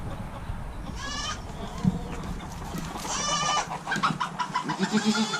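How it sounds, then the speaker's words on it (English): Goats bleat several times in wavering calls against an outdoor farmyard background, with a few shorter animal cries near the end. "We're gonna let our goats out now."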